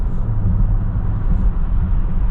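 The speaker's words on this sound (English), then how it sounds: "Also going to be quiet in between what we're doing occasionally, just so you can hear how it is to drive." Cabin noise inside a 2022 Infiniti QX60 at highway speed: a steady low road and engine rumble with tire hum, continuous and fairly loud, no one speaking.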